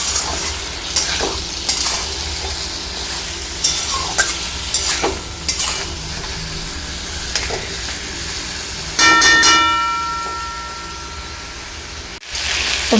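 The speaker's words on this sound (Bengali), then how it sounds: "জিরে ধনে আদা কাঁচা লঙ্কা। মশলা দিয়ে কিছুক্ষণ ভেজে নিব" Cumin, coriander, ginger and green chili frying in a pan, a continuous sizzle broken by stirring scrapes, with a louder burst of hissing near the end before a sudden cut, close.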